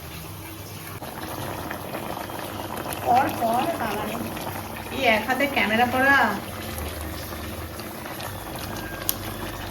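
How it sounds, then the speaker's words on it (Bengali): Curry gravy for a vegetable biryani simmers and bubbles steadily in a pot, a soft continuous burble close by, while someone talks over it in two short stretches. "আমার ঝোলটা তো ফুটছে"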